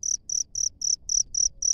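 Regular, shrill mlondon cricket chirps pulse at an even rhythm from a burrow, loud and near, with nothing else but faint low rumble beneath.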